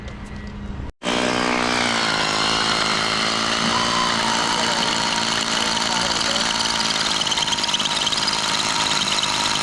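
After a brief silence a power drill starts up and runs continuously with a loud, steady whine and slight rattle for several seconds, drilling holes to install a pool winter cover.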